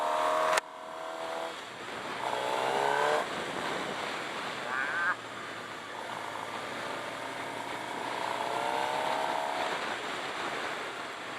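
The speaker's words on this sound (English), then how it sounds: "Got a nice sounding engine." A 2017 Suzuki GSX-R 750 sport motorcycle engine revs and pulls through gears with a steady rising drone, close and fairly loud, with a sharp shift change early on and wind rush throughout.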